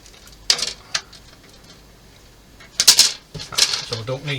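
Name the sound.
cutting a model tank part off the plastic sprue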